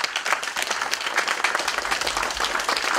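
An audience at an indoor lecture event breaks into sustained applause, a dense patter of many hands clapping at moderate distance for the whole moment.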